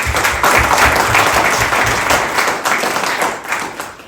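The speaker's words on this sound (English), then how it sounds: "give them a round of applause." Loud, sustained clapping from an audience at an arts center talk in Sedona, filling the room evenly before tapering slightly toward the end.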